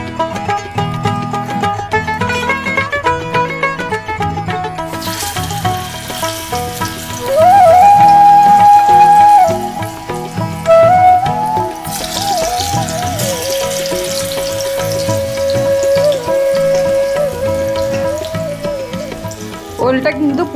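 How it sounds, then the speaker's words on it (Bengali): Elephant foot yam frying in hot mustard oil with a little sugar, a steady close sizzle running throughout, with utensil clatter and bright tonal whistles from the kitchen at times. "তেল গরম হয়ে গেছে, এবারে আমি ওলগুলো ভেজে নেব"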